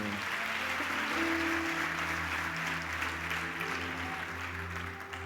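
A congregation in a church service claps for the Lord, with steady, sustained applause rising together over a low organ or keyboard drone that holds beneath it.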